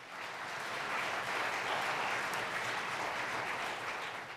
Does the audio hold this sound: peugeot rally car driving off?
no